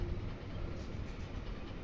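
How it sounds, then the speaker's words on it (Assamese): A long train rolls past at some distance, a soft, continuous rumble and rattle of wagons that stays even throughout. "ট্ৰেইনখন ইমান দীঘল, শেষ নহয়।"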